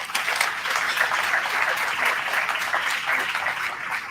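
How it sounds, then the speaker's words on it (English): Steady applause from an audience at a live-streamed charity event, a thick continuous patter of many hands held at an even, moderately loud level for about four seconds. "we can still applaud them for their help"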